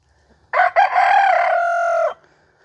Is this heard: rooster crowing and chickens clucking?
yes